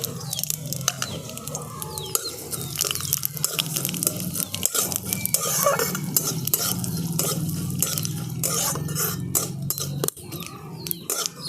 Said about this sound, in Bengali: এগুলোকে আমি তেলের মধ্যে দিয়ে একটু ভালো করে ভেজে নেব।